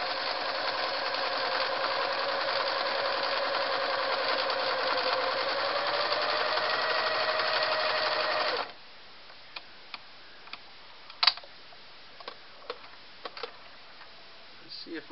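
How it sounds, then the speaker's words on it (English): A Singer 353 Genie sewing machine runs a straight stitch with a steady, even mechanical whir for about eight seconds, then stops, leaving faint scattered clicks and taps. "Let's try that straight stitch."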